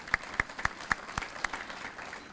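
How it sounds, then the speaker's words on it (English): Sparse applause from a small audience at a chamber of commerce education event in East Texas: a handful of distinct, evenly spaced claps ringing in a room, fairly quiet, with no talking over them. "let's just give them a round of applause anyway"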